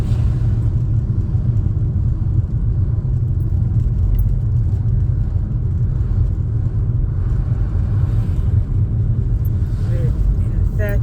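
Car engine driving in third gear during a driving lesson, a steady low rumble with road noise running throughout, slight shifts in tone and a faint jingle near the end.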